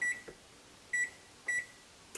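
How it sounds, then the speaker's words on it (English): Three short electronic beeps from a kitchen oven timer being set for baking at 375 degrees, close and clear, in a quiet room with no talking. "So let's set the timer for that."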